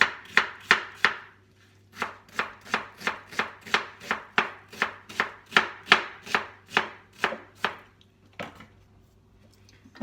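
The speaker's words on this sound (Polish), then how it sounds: "Potrzebna nam jest cebula. Kroimy ją w kosteczkę." A knife dices an onion on a cutting board in quick, steady chops, roughly twenty sharp close strikes over ten seconds with a short pause partway through, with no talking.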